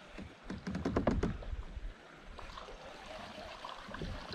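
Flowing creek water runs steadily over rocks in a shallow stream, with a brief burst of nearby splashing and knocking early on, then a continuous soft rush of current.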